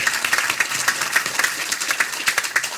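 An outdoor crowd at a bypass ribbon cutting ceremony applauds, a dense run of steady clapping lasting a few seconds at moderate volume.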